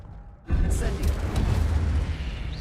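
An Incendio fire spell is cast in the Hogwarts Legacy game, a sudden loud boom followed by a sustained roaring, crackling burst that fills the rest of the moment.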